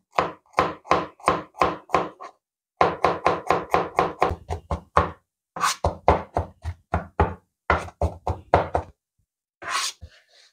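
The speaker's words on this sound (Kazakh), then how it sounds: "Чесногымызды тураймыз." Rapid rhythmic knife chopping garlic on a cutting board, bursts of quick taps with short pauses, loud and close.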